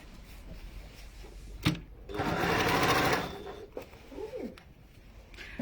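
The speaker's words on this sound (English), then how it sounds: "Flip it upwards, top stitch it." Close by, a sewing machine top stitches a seam in one short steady burst of about a second, bracketed by faint clicks and handling noises in a quiet room.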